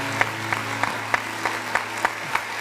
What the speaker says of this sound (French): on va applaudir encore très fort